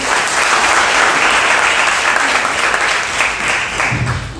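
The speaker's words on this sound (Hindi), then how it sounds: "इनके लिए ताली बजाओ" Loud, dense applause from a seated audience at a talk, a steady wash of many hands clapping that holds for several seconds before easing slightly at the end.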